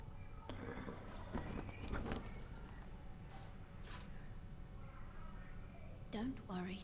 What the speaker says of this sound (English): so in comes the horse, Torrent.